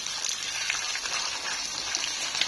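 Eggs frying in a pan with shallots, a soft, steady sizzle and crackle with faint popping, quiet and close, with no talking.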